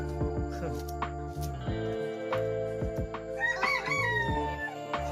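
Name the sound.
chicken crowing on a farm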